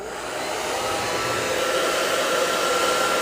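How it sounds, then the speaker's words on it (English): A hair dryer drying a watercolor painting blows steadily and loudly throughout, a constant broadband whoosh with a faint whine, no voices. "I'm just gonna hit this with my hairdryer really quick"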